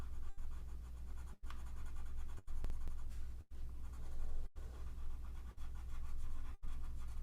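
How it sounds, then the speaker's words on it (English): A watercolor pencil crayon scratches steadily across paper in close, rasping strokes, broken by about seven brief pauses as the pencil lifts, with no voices. "I'm just going to use my watercolor pencil crayon and add color"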